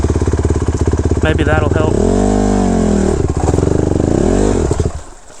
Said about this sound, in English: I brought the idle down a little bit.